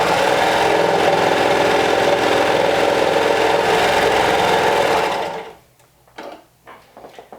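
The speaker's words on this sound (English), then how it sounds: "sew it in a loop along the short end" A sewing machine runs steadily for about five seconds, stitching a fabric cuff into a loop along its short end, then stops, followed by a few faint handling clicks.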